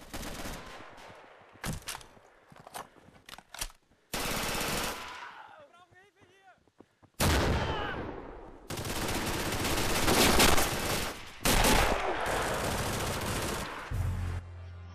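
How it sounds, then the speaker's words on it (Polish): Rapid bursts of Red Orchestra video game machine gun fire on the Eastern Front, some long and sustained, others clipped, with a few quieter gaps and faint voices between. "Wali z tego MG, że zaraz lufę przepali."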